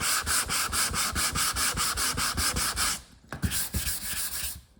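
Hand sanding a body panel on a 1983 VW T3 Vanagon during stripping, a loud steady run of rhythmic back-and-forth abrasive strokes up close, with a brief pause before the strokes resume.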